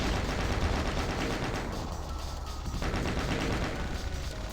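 Rapid, continuous gunfire from DOOM on the POOGERS Map 28 level, loud and dense with barely a pause, its sustained roar forming a steady wall of shots for several seconds.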